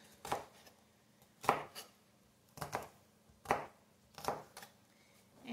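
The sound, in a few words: dicing a green pepper with a knife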